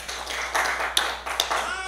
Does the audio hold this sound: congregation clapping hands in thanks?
yes